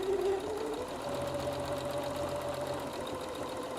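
A sewing machine runs steadily, stitching fabric pieces together on alternating sides, a continuous mechanical hum with a faint whine, moderately close and without talk.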